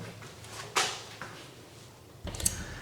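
A downstairs WC door in a three-bed semi-detached house opening, a faint click and creak followed by a louder bump and rattle near the end, quiet indoor room tone.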